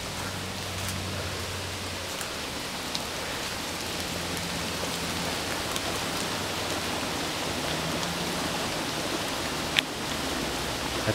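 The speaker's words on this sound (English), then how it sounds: "And you can definitely hear it coming out of the stormwater drain over here." Steady rushing storm water pours continuously from a stormwater drain, a broad even wash like runoff gushing from a pipe, close by with no voices.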